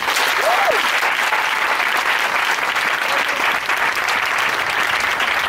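A church congregation breaks into loud, dense applause praising the Lord, continuous and close throughout, with a brief high whistle near the start.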